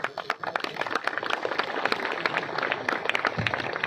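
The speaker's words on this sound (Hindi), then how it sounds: "तालियां आप लोग" Audience applause at a Hindi-language livestock and veterinary event, a fairly faint, steady clatter of many hands clapping together with small bursts of louder claps throughout.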